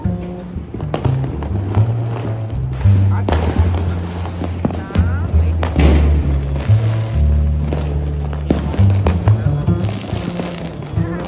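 Diwali fireworks and firecracker rockets burst outdoors during a family celebration, loud repeated cracks and booms in an irregular series, with people talking throughout.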